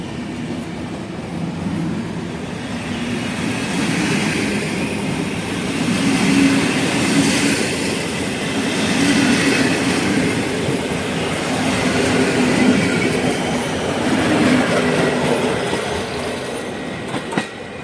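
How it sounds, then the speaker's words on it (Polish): A passenger train pulls out of a historic station bound for Przemyśl, a steady loud rumble of wheels and carriages with faint clickety-clack and squealing as it slowly gathers speed, no talking. "Siódemeczka powoli nabiera rozpędu z gracją."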